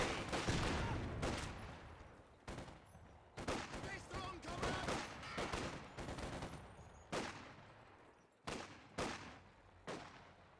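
Machine gun and flamethrower fire in a Company of Heroes 2 battle, coming as a string of loud, dense bursts and crackling volleys with short gaps between them.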